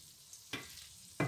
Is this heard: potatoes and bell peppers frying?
yes